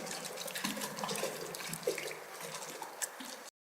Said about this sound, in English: It's like the sound of water clashing against like a boat dock or something.